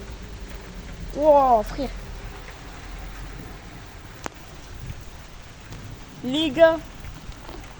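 A heavy downpour during an unforecast thunderstorm hisses steadily and close, while a voice calls out twice and a single sharp crack cuts through midway.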